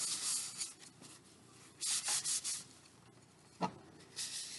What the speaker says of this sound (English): I'm going to just wipe with the napkin